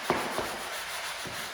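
A used 220 grit sanding screen rubbed by hand over a hardwood floor in a corner, giving a few quick soft scratchy strokes, close and brief.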